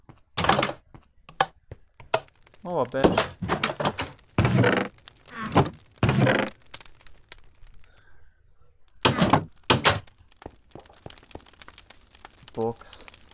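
A door opens in a video game with a short thunk amid scattered clicks and item sounds, while a person talks over much of the scene.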